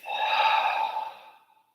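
A single long, breathy exhale during a yoga session, close and soft, swelling quickly, holding for about a second, then trailing off into silence.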